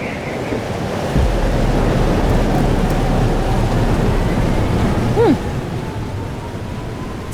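Thunderstorm with heavy rain and wind in Life is Strange: Double Exposure, a steady loud roar of rainfall with a rumble of thunder building partway through, a brief swell near the end.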